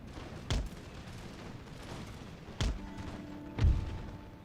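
Artillery cannon fire in the Imperial Splendour battle game with Prussian forces, three separate booming shots spaced a couple of seconds apart over a low background rumble, each a short thump with a brief tail.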